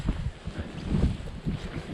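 Strong blizzard wind gusting against the microphone, a low rumbling buffet that swells and fades in close, heavy waves with no voices.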